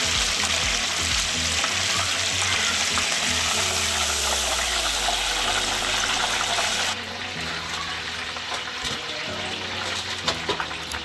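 A Cornish hen deep frying in bubbling grease, a loud steady sizzle and crackle of hot oil that drops slightly in intensity about two-thirds through, with scattered pops near the end and no talking.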